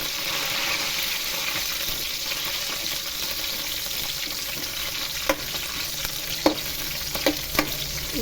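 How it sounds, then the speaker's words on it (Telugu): Green chillies fry in an oil-filled pan for tomato pachadi, giving a steady, close, dense sizzle throughout, with a few sharp scrapes and taps of a spatula stirring near the end. "మిర్చి ఫ్రై చేసుకున్నాక"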